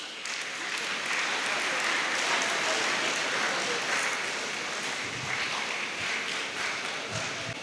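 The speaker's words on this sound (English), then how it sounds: "And now, a special round of applause for Mohammad Munaf Mustafa of PCMB" An audience at a college felicitation for 2nd PUC toppers claps in sustained, dense applause for a student, steady and fairly loud throughout with a few brief quieter dips near the end.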